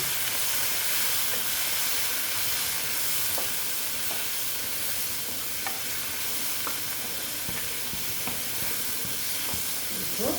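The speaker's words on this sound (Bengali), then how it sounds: "হলুদটা দিয়ে দিচ্ছি দিয়ে একটু ভালো মতো এটাকে নেড়ে চেড়ে নিচ্ছি" Small mourola fish frying with turmeric in a pan, a steady close sizzle and hiss running throughout with spatula scrapes and clicks from stirring scattered across it, no voices.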